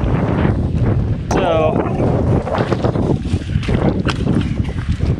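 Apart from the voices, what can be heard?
wind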